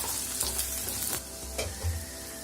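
Carrot, potato and beans for paneer korma fry over low heat in a pan, giving a steady close sizzle with a few brief stirring scrapes.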